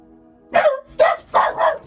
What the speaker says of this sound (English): Sorry, my dogs.